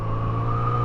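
A Kawasaki Z900RS motorcycle engine hums steadily on a test ride, a loud, close, even drone over the whole short moment.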